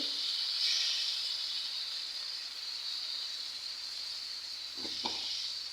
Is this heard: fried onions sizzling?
yes